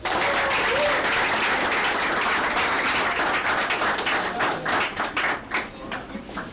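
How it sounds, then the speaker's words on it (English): An audience at a coding bootcamp event gives a round of applause, dense and loud clapping that fills the room before thinning out toward the end. "Round of applause."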